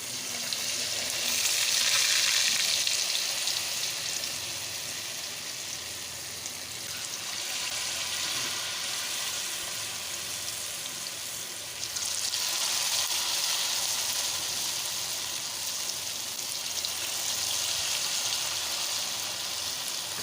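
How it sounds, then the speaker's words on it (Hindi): Potato and cabbage pakoras frying in oil over a low flame, a steady close sizzle and bubbling that swells in two louder bursts, with no voices. "हल्के फ्लेम पे मैं पकोड़े बनाऊँगी।"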